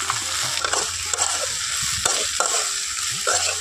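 Okra fries in oil in a pan, a continuous close sizzle and hiss broken by several scraping, stirring strokes across the pan.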